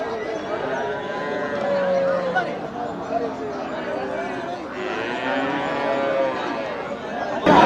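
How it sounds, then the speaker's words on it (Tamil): Sindhi cattle low repeatedly amid a busy crowd at a cattle market in Melapalayam, with people chattering throughout and a lively market hubbub in the background. "இது என்ன மாடு சிந்து மாடு தான்"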